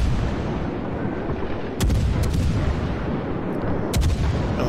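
In World of Warships, naval guns fire on a destroyer. Loud, sharp cannon blasts go off in a couple of spaced volleys over a constant dense rumble of battle and sea.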